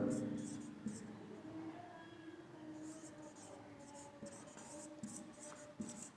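Pen or chalk writing out a math proof that √5 is irrational, steady soft scratching strokes continuing throughout, with faint whispery background and no clear talk.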